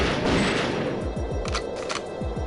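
A cut shotgun in GoldenEye 007 blasts in a quick series of sharp, loud reports, several shots in close succession with brief echoing tails, no voices.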